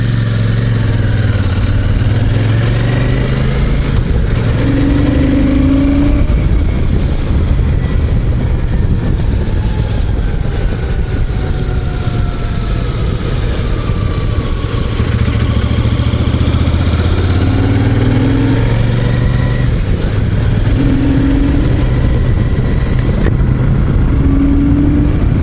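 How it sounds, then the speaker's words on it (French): A Royal Enfield Super Meteor 650 with its 47-horsepower 650 engine runs for a long stretch, its low throb rising and falling through gear changes as it rides along, loud and continuous. "ce moteur 650 à 47 chevaux, bon, c'est pas trop coupeux"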